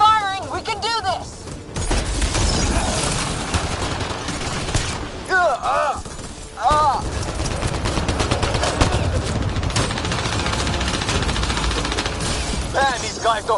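Sustained gunfire from the Mass Effect Andromeda video game, a loud continuous battle of rapid shots and bursts with occasional explosions, running the whole clip under shouted game dialogue.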